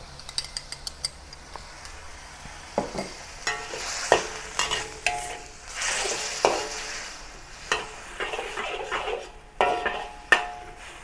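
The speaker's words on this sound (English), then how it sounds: "add the broccoli. And then the stir-fry sauce that we have prepared." Shrimp and broccoli stir-frying with garlic stir-fry sauce in a pan, steady loud sizzle broken by repeated clanks and scrapes of a utensil stirring against the pan, close and without speech.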